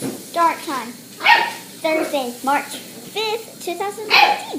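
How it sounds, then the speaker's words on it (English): A pet dog barks repeatedly in a home, a series of sharp yipping barks and whines close to the mic, with a person speaking over them. "And that's my dog."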